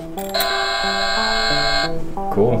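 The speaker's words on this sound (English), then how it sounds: "Ring the doorbell first. Let's see ring the doorbell." A Melissa & Doug toy house doorbell chimes a bright electronic melody of sustained tones, close and clear, with a voice briefly at the end.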